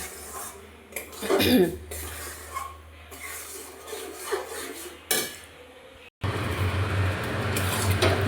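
A spatula scrapes and knocks against a pan as a coconut laddu mixture is stirred over heat. The strokes come in irregular bursts among clinks and a cough, and a steady low hiss takes over near the end.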